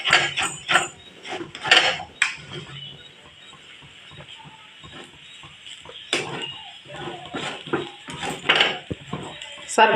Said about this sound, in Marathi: सारखं परतून पूर्ण सुट्ट सुट्ट होईपर्यंत भाजून घ्यायचं